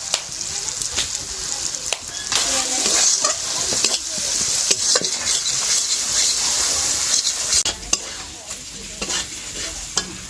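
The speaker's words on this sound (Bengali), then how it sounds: "মশলাটা খুব ভালো করে কষিয়ে নিয়েছি" Spice masala with Kashmiri chili powder sautéing in a pan for a chicken and masoor dal dish, a steady loud sizzle with frequent stirring scrapes and clacks of the spoon, close up and unbroken by speech.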